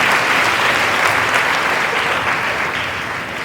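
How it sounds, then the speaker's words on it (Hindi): A church congregation applauds after a prayer, giving a loud, steady wash of many hands clapping together that fades slightly toward the end. "ताली बजा के हम परमेश्वर को धन्यवाद"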